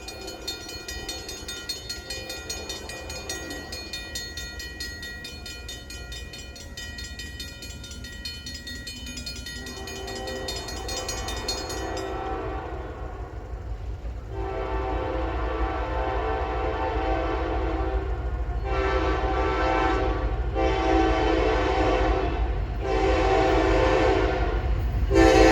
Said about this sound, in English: Comes NS GEO, the track geometry train.